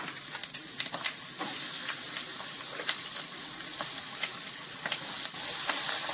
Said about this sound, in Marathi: ही छान फोडणी खमंग झाली की ह्याच्यावर आपण जो जाडा चौकोनी चिरलेला कांदा आहे तो घालायचा